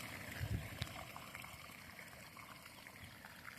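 Water gushing steadily from a 6 HP motor pump, a continuous broadband rush and splash heard close by, with no talking over it.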